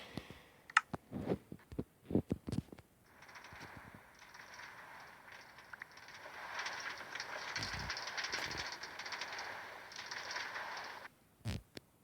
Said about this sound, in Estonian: Ja me tahame seda rongisõitu katsetada.